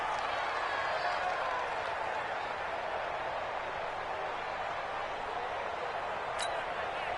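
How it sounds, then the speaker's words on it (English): A stadium crowd roars in a domed arena in a PS4 football video game, a broad, steady wash of cheering noise that stays loud and continuous throughout, with a brief sharp click near the end. "The crowd here in the Dome making things difficult."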